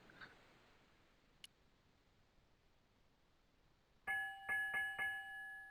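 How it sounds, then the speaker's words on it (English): A ship's bell in the game Broken Sword II strikes a few quick metallic rings near the end, bright and sustained with a short pause between strokes, after several seconds of faint near-silence. "It was a ship's bell. It's certainly got a nice ring to it."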